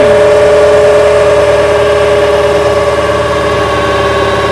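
A New Holland TL-90 turbo diesel tractor engine runs steadily under load at 540 PTO RPM, a loud, continuous drone with strong harmonic tones and a faint rumbling vibration throughout, no voices.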